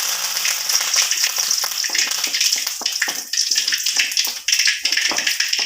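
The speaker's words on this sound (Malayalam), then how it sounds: "നമ്മുടെ കടുകൊക്കെ പൊട്ടി തുടങ്ങിയിട്ടുണ്ട് നമുക്കിനി കറിവേപ്പില ഇട്ട് കൊടുക്കാം" Mustard seeds and curry leaves sizzle in hot oil in a Kerala kitchen during prawn theeyal cooking: a loud, close, hissing crackle with rapid popping bursts that dips briefly and then surges again.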